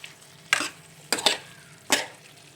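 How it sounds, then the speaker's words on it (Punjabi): A spinach and turnip curry stirred in a pan, three distinct scraping, sizzling stirs spaced about half a second apart over a low background hiss, close and alone. "ਹੁਣ ਅਸੀਂ ਇਹਨੂੰ ਚੰਗੀ ਤਰ੍ਹਾਂ ਮਿਕਸ ਕਰ ਲਵਾਂਗੇ"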